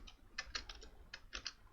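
Quick bursts of typing on a computer keyboard, a handful of close, crisp key clicks in uneven clusters with short pauses between them, no voice.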